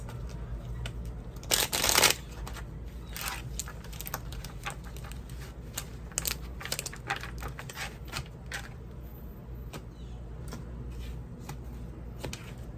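Cards riffle and snap close by, a loud burst of shuffling early on followed by lighter repeated flicks and taps.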